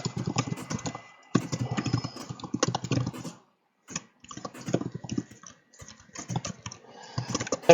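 Rapid bursts of keystrokes on a computer keyboard, close and fairly loud, arriving in uneven runs separated by short pauses with no talk over them.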